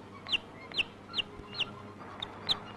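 A brooding hen clucks to her chicks with six short, evenly spaced calls about half a second apart. The calls are fairly faint over a quiet background, and no one talks.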